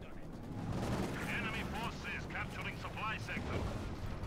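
Gunfire and battle noise in Company of Heroes 2, a dense rumbling barrage of shots and blasts with chirping high effects and a voice speaking over it.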